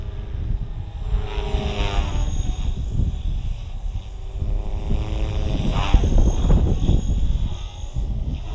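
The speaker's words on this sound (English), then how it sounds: "It has probably become my favorite 250, 280 size helicopter." A small Blade Fusion 270 model helicopter's high-pitched motor and rotor whine steadily, holding a constant buzzing drone with slight pitch shifts as it flies nearby.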